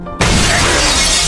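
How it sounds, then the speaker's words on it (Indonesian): A glass window smashed by a zombie woman in a film, a sudden loud shattering crash that bursts in and sustains a dense spray of breaking glass for over a second. "Zombie wanita itu pun memecahkan kaca jendelanya untuk memburu mereka."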